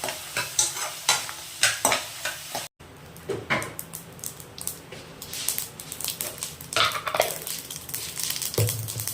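Peanuts, roasted gram and tamarind sauté in a pan under a dense sizzle, with rapid, repeated spatula scrapes and clatters in an irregular rhythm, close by and with no speech.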